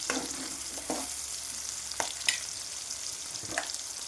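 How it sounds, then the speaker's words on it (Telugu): Onions and green chillies frying in a hot pan for a brinjal tomato curry, a continuous bright sizzle broken by a few sharp spoon scrapes and stirs, close and clear with no voices. "ఈ ఆనియన్ పచ్చిమిర్చి అనేవి మంచిగా వేగాలి."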